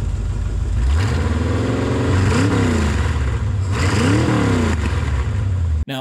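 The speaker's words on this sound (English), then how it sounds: "All right, you want to give me a couple revs?" The V8 engine of a sand rail buggy revs up close in a couple of rising and falling pulls over a steady loud idle.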